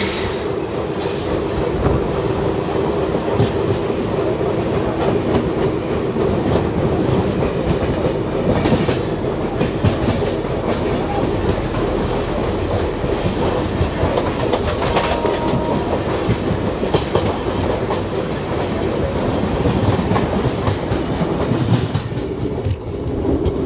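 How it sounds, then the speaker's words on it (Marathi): An Ahmedabad–Kolhapur Express hauled by a WAP-7 electric locomotive leaves Karad station, a loud, continuous rolling roar with rhythmic clickety-clack of wheels over rail joints and occasional faint squeals, close by throughout. "11:49 अहमदाबाद कोल्हापूर एक्सप्रेस डिपार्चर होत आहे"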